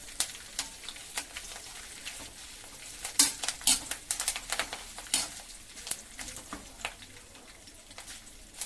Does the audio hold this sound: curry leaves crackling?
yes